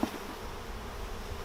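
Honeybees buzz steadily around an open hive while it is being split, a faint, continuous hum running throughout with no voices.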